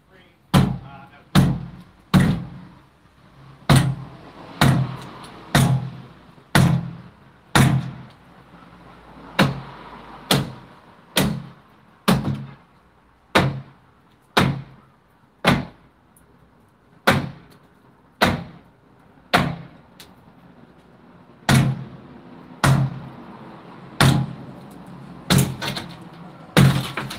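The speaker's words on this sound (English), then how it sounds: "I'm just going to smash it, and it's going to set the door and frame out." A door and its frame being smashed out of a brick wall with a bar, heard as a long series of loud, sharp thudding blows at a steady, forceful pace, each strike ringing out briefly before the next.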